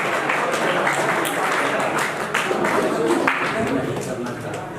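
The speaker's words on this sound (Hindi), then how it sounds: "सभी लोग तालियों से अभिनंदन करेंगे।" Sustained audience applause at a Hindi Arya Samaj gathering marking Swami Dayanand Saraswati's birth anniversary, welcoming an elderly woman guest; dense steady clapping fills the clip with a crowd murmur beneath it.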